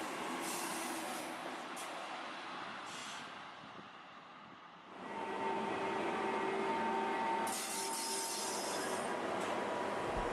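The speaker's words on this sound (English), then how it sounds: "The green train pulls into the station high up on the mountain." A green train pulls into a station high on a mountain, first rumbling and then swelling into a louder, steady rolling roar with faint squealing wheel tones and hissing brakes. No one speaks.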